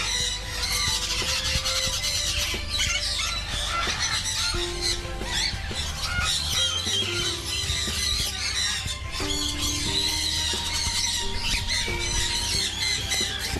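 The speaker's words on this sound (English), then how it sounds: "these over here are the bluehead Pyonis. They come from Central and South America" Blue-headed pionus parrots from Central and South America squawk and screech continuously in a noisy aviary, many harsh overlapping calls filling the whole stretch.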